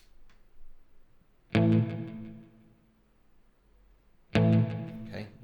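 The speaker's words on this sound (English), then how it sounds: "let's hear the guitar part. Really, really simple, all on its own with the delay and reverb sends." Two clean electric guitar chord stabs ring out about three seconds apart, each decaying through a delay and reverb send into a long fading tail, played alone without talk.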